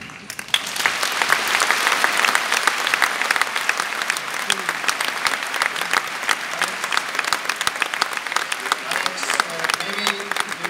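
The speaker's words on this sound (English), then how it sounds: "you always got a big round of applause for what you were saying" A large audience claps for astronaut Alexander Gerst in a hall, loud, dense and sustained applause filling the whole stretch with crowd noise underneath, without any speech.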